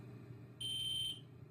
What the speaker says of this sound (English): When the fire alarm goes off,